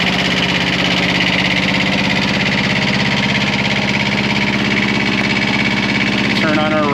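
A CTE Traccess 230 75 ft compact tracked spider lift engine idles with a steady, loud, rumbling throb close by that runs unbroken throughout, and a brief tone sounds near the end.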